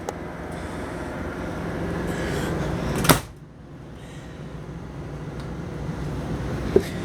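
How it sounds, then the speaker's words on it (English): The entry door of a 2007 Four Winds Magellan 36E Class A motorhome is pulled shut, giving a single sharp close-by thud and latch against a steady background hum, followed by a quieter interior and one small click later on. "I'm going to go ahead and shut this door"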